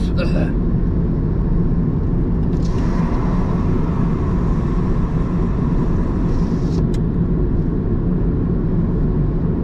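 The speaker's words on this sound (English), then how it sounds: "A Polish truck has a bad engine or something" A Polish truck with a faulty engine passes outdoors as a loud, steady rumbling drone that fills the whole stretch without letup.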